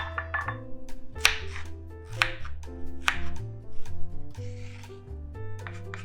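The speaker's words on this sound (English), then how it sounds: "let's chop the onions to fine pieces." A knife chops onions into fine pieces on a board for a spinach and cheese omelette, making a close, irregular run of sharp thuds and cuts with short pauses between them.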